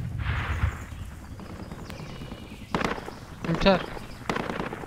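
Gunfire in the tactical shooter game Project Reality during infantry combat, with sharp broadband bursts and a few separated shots over a noisy battlefield background, while players talk over voice chat.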